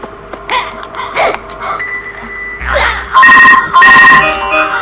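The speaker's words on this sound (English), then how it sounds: "Oh, that's my phone." A mobile phone ringtone bursts out loudly in repeated bright electronic phrases over a quieter musical background, following some softer tones and noises earlier.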